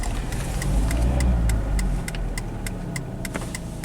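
A Dodge Neon stuck in limp mode with no drive gears, engine running steadily as the car rolls backwards; a continuous mid-pitched engine hum with faint ticking, loud and close throughout.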